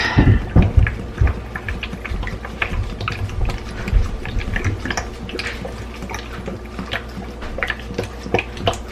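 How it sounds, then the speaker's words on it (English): Vinegar pours from a bottle into a jar packed with chive flowers, a steady liquid trickle and glugging with a few clinks and splashes near at hand, running throughout without talk. "we're just going to pour it in."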